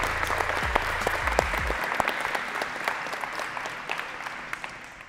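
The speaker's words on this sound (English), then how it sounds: "let's give our coaches a round of applause." Players at an adult volleyball camp clap for their coaches in a gym, a steady round of applause with sharp individual claps and brief low thumps early on, fading slightly.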